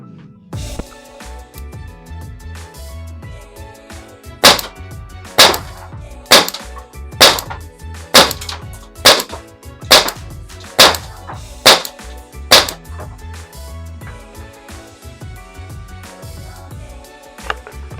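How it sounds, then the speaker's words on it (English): An HPA airsoft gun with a Mechlabs engine at 120 psi fires about a dozen loud, sharp cracks in a steady, evenly spaced sequence at close range, with no talking. "let's see how well and how consistent the gun actually shoots"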